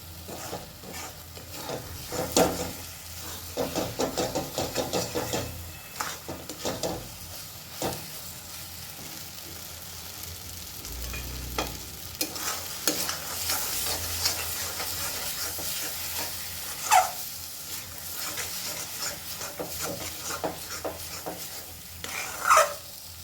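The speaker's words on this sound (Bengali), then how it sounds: "একটু নাড়াচাড়া করে এটা শুকনো শুকনো মতন করে নিতে হবে।" Mooli (radish) greens with two green chilies are stirred in a pan over a high gas flame, producing scraping, stirring sounds over a soft steady sizzle, with a few louder clanks along the way.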